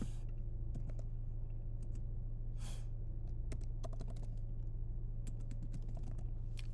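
Keys clatter in irregular bursts on a computer keyboard, fairly faint over a constant low hum and background noise.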